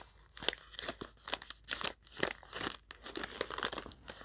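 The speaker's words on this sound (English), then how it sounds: "All right, crinkling." Plastic packaging crinkling as it is opened from a box, a close, quiet run of irregular crackling rustles and crunches with no voices.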